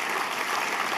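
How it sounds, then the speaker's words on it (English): A dinner audience claps for a speaker, producing a dense, even wash of applause from many hands that lasts about a second. "Let's give him a round of applause."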